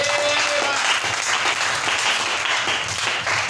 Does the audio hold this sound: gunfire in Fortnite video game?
no